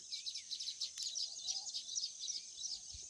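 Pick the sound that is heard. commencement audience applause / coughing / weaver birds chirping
weaver birds chirping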